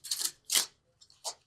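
Tarot cards are shuffled close by in a few short, soft, papery bursts separated by quiet gaps.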